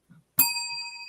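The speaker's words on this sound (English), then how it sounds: "And then a bell" A single bell strike rings out sharply and keeps sustaining as a clear, bright tone, standing alone after a brief low murmur.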